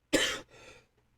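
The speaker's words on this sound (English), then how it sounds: "I apologize for all the coughing." A single harsh cough bursts out, followed by a softer trailing throat-clearing rasp, close and fairly quiet, with no talking.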